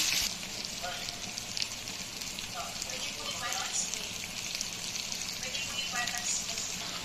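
Squash being sautéed in a pan for pinakbet, a soft steady sizzle under faint background noise at low level, with occasional light clinks.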